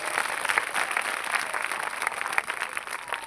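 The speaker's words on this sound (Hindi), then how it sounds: "ताली बजा के प्रभु को धन्यवाद दीजिए।" A church congregation at a New Year festival applauds to thank the Lord, a dense, steady wash of many hands clapping with scattered sharper claps throughout, moderately loud and unbroken.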